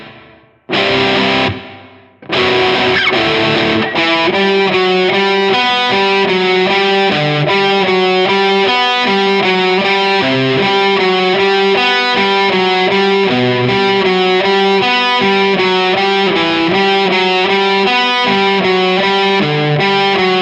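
Distorted electric guitar riff played with even alternate picking, a brief opening burst and pause before a steady, driving run of repeated notes, loud and close with no talk.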